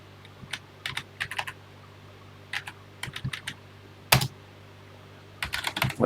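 Typing on a TI home computer keyboard: short bursts of close, crisp key clicks in irregular clusters separated by pauses, with one louder key thump partway through, over a faint steady hum.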